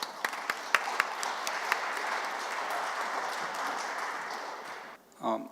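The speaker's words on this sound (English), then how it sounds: "with a big round of applause" An audience applauds to welcome a session moderator at a UN symposium plenary session, a steady wash of many hands clapping with a few louder claps near the start, fading out before a brief voice at the end.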